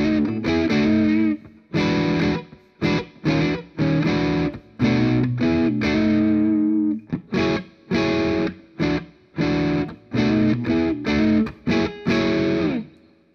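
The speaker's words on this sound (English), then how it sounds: "And then we'll add a little bit of crunch with that Tube Screamer." Crunchy overdriven electric guitar from a 2012 Les Paul Studio with a Tube Screamer pedal into a Traynor YCS 90 amp, choppy rhythmic chord stabs and short bursts with brief gaps, loud and upfront with no voices.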